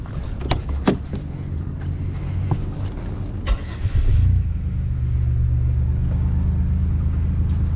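A car's engine catches and settles into a steady, loud idle rumble after a fuel pump repair, with a few clicks and knocks from working on the car before it starts.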